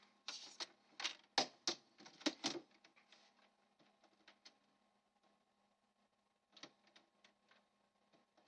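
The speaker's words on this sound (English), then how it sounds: "Okay, here's our printer coming up." A printer connected to a Windows 7 machine runs a print job, giving a quick burst of mechanical clatter and whirring for a few seconds, then quieter ticking and a final short flurry of feed noise.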